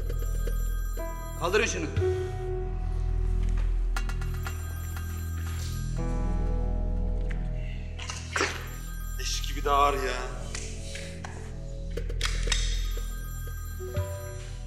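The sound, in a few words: telephone bell ringing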